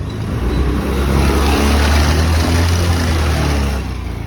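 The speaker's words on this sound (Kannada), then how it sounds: "ಸ್ಕೂಟಿ ಚಾಲು ಆಯ್ತು." A kick-started scooter engine runs close by after starting, a loud, steady low drone with an even idle rumble that holds for several seconds before easing slightly at the end, with no voices.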